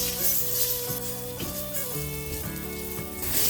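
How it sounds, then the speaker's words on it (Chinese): Vegetables with a teaspoon of S&B red-can curry powder are stir-fried quickly in a hot pan, giving a continuous close sizzle under steady background music. "快速翻炒"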